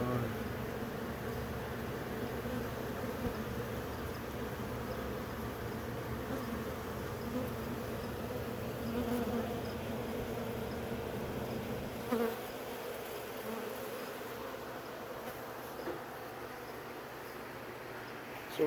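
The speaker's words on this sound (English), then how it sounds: "The crazy close to bees video." Bees buzz up close on honeycomb frames, a continuous droning hum that holds steady and close throughout, easing slightly toward the end, with no talking.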